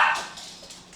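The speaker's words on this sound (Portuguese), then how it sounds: "Os cachorros vão latir agora." Dog barking in a single sharp yelp at the start, then fading into a faint trailing tail with low room noise and no other activity.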